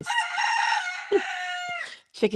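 A rooster crows loudly and close by, a long drawn-out call followed by a couple of short clucks from hens waiting to be fed.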